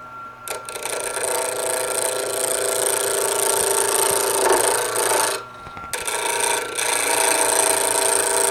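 A wooden pen blank turns on a lathe while being shaped, making a loud, continuous abrasive rasp and hiss. The sound is close and steady, with brief dips where the tool lifts off, and no talk.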